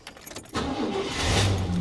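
A 1987 Chevrolet Silverado R10 with a 350 cubic inch 5.7 liter V8 starting up: a brief crank and quiet lead-in, then the engine catches about halfway and settles into a loud, steady idle rumble, close by, with no talk.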